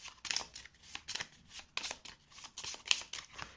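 Cards for The 7th Continent board game are shuffled by hand, close and quiet, in quick repeated riffles and flicks with short pauses between bursts.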